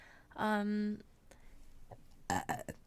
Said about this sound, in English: Do you need to burp?